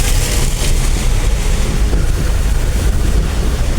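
Swollen river water rushes hard past a village temple, a loud, dense, continuous roar close by, mixed with wind buffeting the microphone.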